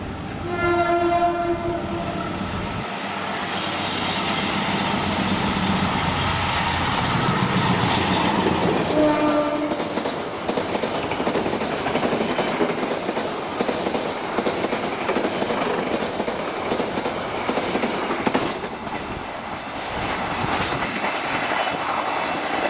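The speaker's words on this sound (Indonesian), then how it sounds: "Kemudian ini kereta api Argo Laut 7C." An Argo passenger train rumbles past on Indonesian rails with a loud horn blast at the start, followed by sustained clattering wheels and rushing noise that stays strong throughout.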